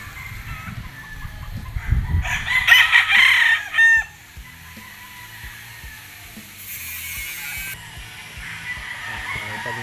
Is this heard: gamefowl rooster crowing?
yes